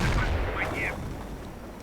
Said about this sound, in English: Sherman tank opening up on the Grenadiers, forcing them away with its mighty gun, yet immediately coming under fire from the Pack 38.